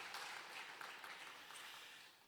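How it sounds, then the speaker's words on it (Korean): Congregation applauding in a church after a choir's hymn, a brief, even wash of clapping at moderate distance. "우리 다 같이 박수로 격려하도록 하겠습니다."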